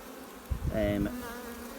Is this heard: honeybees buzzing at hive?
yes